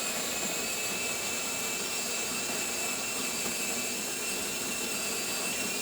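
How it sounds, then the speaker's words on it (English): A freshly serviced, fully tuned-up Jura Z7 coffee machine runs its espresso function with a steady, loud mechanical whir and hum. The sound holds unchanged for the whole stretch, close by, with no one speaking. "Let's just test the espresso function."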